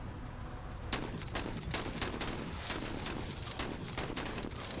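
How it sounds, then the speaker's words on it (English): Shotgun blasts in the tactical combat video game Menace, played on expert difficulty, come as a dense run of loud, booming reports fired in quick succession, with no speech over them. "God, that shotgun is so nice."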